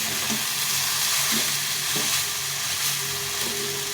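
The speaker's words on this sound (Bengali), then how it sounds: "তো এরকম করে শাকটাকে ভেজে নিতে হবে" Bete shak greens fry and get stirred in a pan, a steady close sizzle broken by periodic scraping strokes of the spatula at irregular intervals.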